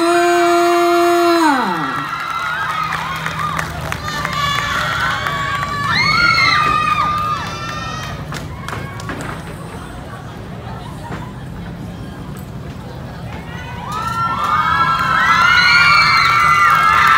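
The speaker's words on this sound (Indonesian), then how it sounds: "Sekali lagi mana tepuk tangannya untuk Sanggar Seni Budaya Talaba." A crowd cheers and shouts for a dance troupe at a festival performance, loud excited voices rising and falling, with music or tones at the start and a fresh swell of cheering near the end.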